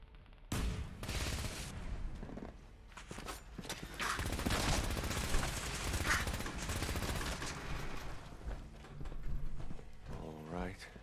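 Gunfire in the video game Fallout 4 comes as dense, loud bursts of shots and rapid automatic fire mixed with clattering effects, with a voice speaking near the end.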